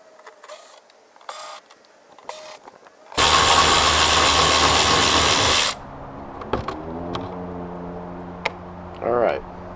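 A power driver buzzes loudly for about two and a half seconds, backing out T15 screws from a C8 Corvette engine bay cover, with faint clicks before it and light handling noises and a brief voice after.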